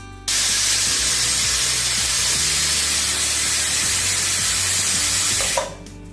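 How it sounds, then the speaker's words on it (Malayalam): A pressure cooker releases its whistle while butter chicken cooks, a loud, steady rush of hissing steam lasting about five seconds before cutting off abruptly. "ഇനി നമുക്ക് കുക്കർ അടച്ച് മൂന്ന് വിസിൽ കേൾക്കുന്നത് വരെ നമുക്കിത് ചെറിയ ഫ്ലെയിമിൽ വെച്ച് വേവിച്ചെടുക്കണം"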